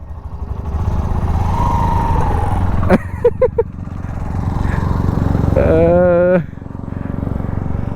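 Hero Xtreme 125R, a 125 cc motorcycle, being ridden with a loud steady engine drone close to the mic, brief revs rising and falling midway, with people talking over it.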